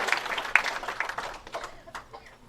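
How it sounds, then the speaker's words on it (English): Audience applause at a women's bowling stepladder semifinal, a crowd clapping steadily at moderate distance with a few louder claps early on, fading gradually over a couple of seconds. "How about a great big round of applause for this going?"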